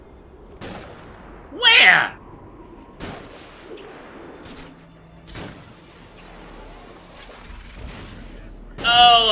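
Sharp sniper shots ring out one at a time at irregular intervals in the video game Batman: Arkham Origins, with a voice speaking briefly between the louder cracks.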